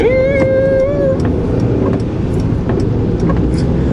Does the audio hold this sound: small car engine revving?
yes